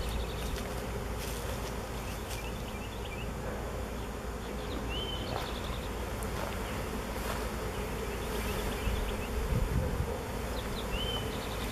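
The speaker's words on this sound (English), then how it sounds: "The buzz. And this is a happy buzz." A honeybee swarm outdoors, settling into a box around its queen, gives off a dense, steady buzz that continues throughout, with occasional birdsong faintly in the background.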